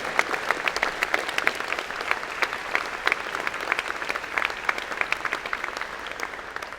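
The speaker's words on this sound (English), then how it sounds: "give them a big round of applause because this is such an important effort" A convocation audience of a college of engineering and computer science applauds faculty and graduate students with steady, dense clapping that holds at an even level for the whole stretch, with no talk over it.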